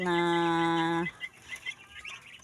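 Pet chickens, with one loud drawn-out call lasting about a second, followed by a few softer, scattered clucks nearby.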